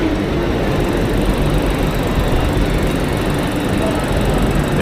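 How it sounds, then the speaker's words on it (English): A Class 800 train idling at London Paddington Station, a steady loud engine hum and broadband rumble under station ambience, continuous and close, with faint voices in the background. "show you the actual train that hauled us all this way"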